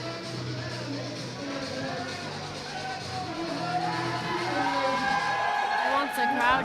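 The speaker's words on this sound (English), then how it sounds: "He wants the crowd cheering for him for this one." A powerlifting meet crowd cheers and shouts for a lifter about to attempt 200 kilos, a steady roar of voices that swells toward the end, with talk mixed in.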